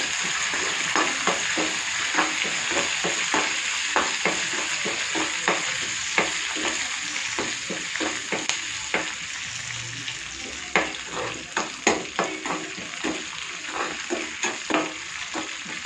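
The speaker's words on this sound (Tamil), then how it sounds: "இப்போ அதே பேனில் எண்ணெய் ஊற்றிருக்கேன். இப்போ இந்த தாளிக்கிறத தாளிச்சிடலாம்." Mustard-style tempering spices sizzle and crackle steadily in hot oil in a pan, with scattered popping and a spoon scraping and stirring throughout.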